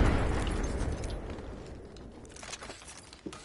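A frag grenade goes off in a video game with one big booming blast that rolls away into a rumbling decay, then a small pop near the end.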